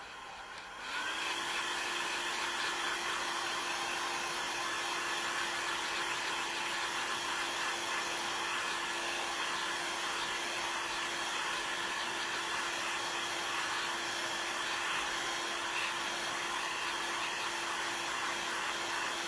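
Hair dryer drying a salvaged craft item, switching on and then running as a steady, loud, close whoosh with a constant motor whine throughout, no talk.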